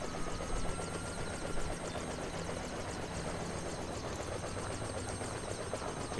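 A helicopter hovers in Splinter Cell Chaos Theory, its rotor a continuous loud, dense chopping roar that fills the scene without a break and with no talk.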